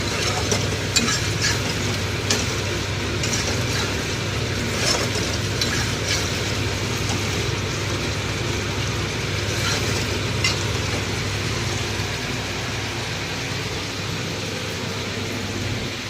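Dried chili and tomato sizzle and are stirred in a frying pan for a fish curry, a steady close, loud hiss with occasional scraping and clinking, a low hum underneath throughout.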